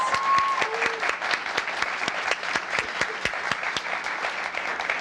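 An audience at a student poetry recitation competition claps for two visiting poets, sharp separate claps ringing out in a steady patter of moderate loudness with no voices over it.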